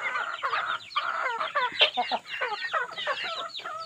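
A laying hen in a netted chicken range clucks in quick, repeated, close bursts, a busy stream of calls with other fowl sounds mixed in.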